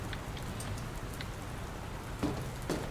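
Steady rainfall in the Dr. Langeskov game, a soft, even patter of drops on a surface with a couple of slightly louder splashes near the end.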